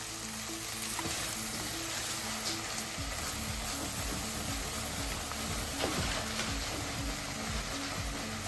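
Green beans seasoned with salt and pepper sizzle steadily in a hot pan, a loud, continuous frying hiss with faint stirring scrapes and no talking.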